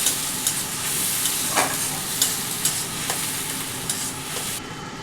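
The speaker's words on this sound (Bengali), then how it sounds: "সেই পেঁয়াজের পেস্টটা আমি এর মধ্যে দিয়ে দিলাম" Onion paste is stirred in a frying pan over medium heat, producing a loud continuous sizzle broken by repeated scraping strokes of the spoon at a roughly regular rhythm.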